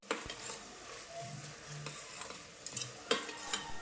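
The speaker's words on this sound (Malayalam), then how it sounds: "അപ്പം നമുക്കിത് നന്നായിട്ടൊന്ന് വഴറ്റിയെടുക്കാം" Tomato, onion and garlic with asafoetida sautéing in a pan, a soft continuous sizzle under repeated spatula scrapes and stirring strokes, close and fairly quiet, with no voices.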